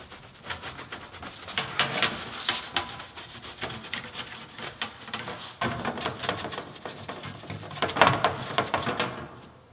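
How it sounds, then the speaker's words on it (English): A cloth soaked with acetone rubs marks off a machined part in quick back-and-forth scrubbing strokes, close and fairly quiet, with uneven bursts and no talking. "A little bit of acetone. This is going to take off all the marks."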